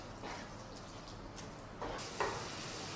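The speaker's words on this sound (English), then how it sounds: "onions are sizzling beautifully" A soft, steady sizzle of onions frying in butter in a pan, quiet and constant, with a faint scrape or clink near the end.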